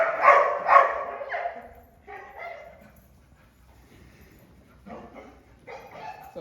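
A herding dog works a small flock of ducks, barking twice sharply up close at the start, then giving scattered softer yips and barks with brief gaps of quiet.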